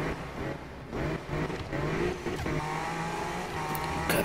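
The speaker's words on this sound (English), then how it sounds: "You can literally hear the turbo, the boost, the intake, the gear changing, everything." A BMW M4 engine in the racing video game The Crew revs hard and climbs through the gears, with rising engine notes, turbo and intake sounds, and short drops at each shift. It sounds loud and close, with no talking.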